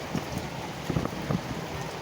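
Summer rain, the first of the season, patters steadily on a surface with soft scattered drops and a few louder taps, with no voices.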